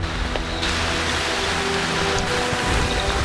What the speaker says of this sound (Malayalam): ഇവിടെ മഴ കൂടിയല്ലോ.